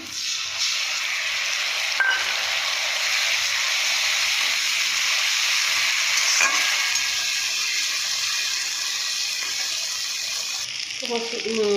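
Ground spice paste fries in hot oil with a loud, steady sizzle that hisses on without a break, broken by a couple of faint stirring knocks near the end.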